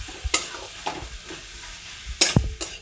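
Spices for shahi masala dal fry sizzle in a pan, broken by several sharp stirring scrapes and clacks spaced out over a few seconds, close up and without talk.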